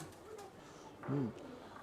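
A Giribaz pigeon gives a short, low cooing call partway through, close by, over faint background murmur.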